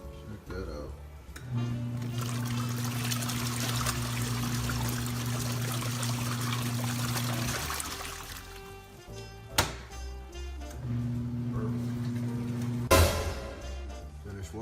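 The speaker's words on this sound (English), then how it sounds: "Washing, switch it to drain. You see it draining out." Giantex portable twin tub washing machine draining, a steady hum of the motor with water trickling out, broken by a pause and a couple of thunks before the hum resumes, someone talking now and then.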